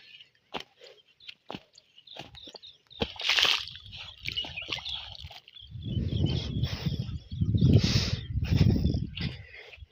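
Water in a clogged channel is pushed along by foot, making uneven sloshing and splashing strokes, soft at first, then heavier, wetter surges close by.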